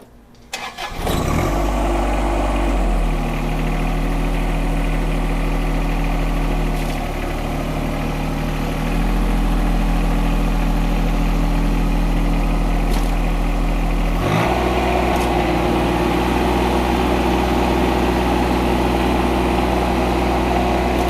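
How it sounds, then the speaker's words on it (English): A John Deere sub-compact tractor fitted with Artillian pallet forks idles steadily and loudly at close range, starting up at first, with a slight shift in engine pitch partway through as it works to lift a heavy load. "I'm going to do it first at just a normal idle range, and if it won't lift it, I will rev it up"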